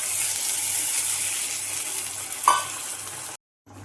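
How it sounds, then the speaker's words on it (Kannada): Milk poured into fried flattened rice and ghee for avalakki payasa, a loud continuous sizzling gush that swells near the end, then cuts to sudden silence. "ಇವಾಗ ನಾವು ಒಂದು ಸ್ವಲ್ಪ ಹಾಲು ಸೇರಿಸ್ಕೊಡ್ತೀನಿ ಇದಕ್ಕೆ"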